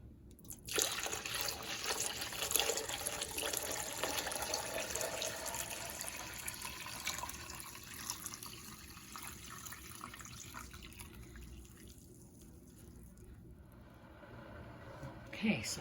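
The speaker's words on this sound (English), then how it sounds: "Now I'm going to pour in my water." Water pours and splashes steadily into a metal water bath canner nearby, a bright rushing sound that thins out toward the end.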